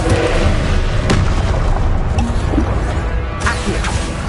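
Confringo fire spell blasts in the Hogwarts Legacy video game, a loud, dense run of booming explosions and crackling bursts that fills the whole clip with no pauses.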